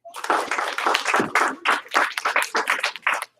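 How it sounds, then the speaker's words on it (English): Students in a classroom clap in short, uneven bursts of hand claps, fairly close and moderately loud, with some scattered talk in between. "Give him 1 clap. Give him 2 claps."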